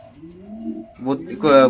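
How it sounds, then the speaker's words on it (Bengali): A black lakka (fantail) pigeon gives a soft, low coo up close, then a voice speaks nearby. "ব্ল্যাক কালারের লক্কা পায়রা এটা সেলের জন্য আছে"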